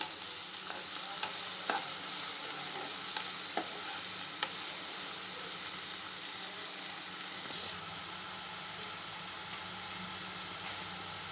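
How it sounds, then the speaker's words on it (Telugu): Steady, close sizzling of onions and green chilies frying in oil in a wok, with scattered stirring clicks and scrapes over the first few seconds. "ఇప్పుడు ఉల్లిపాయ పచ్చిమిర్చి ముక్కలు వేసుకుందాం"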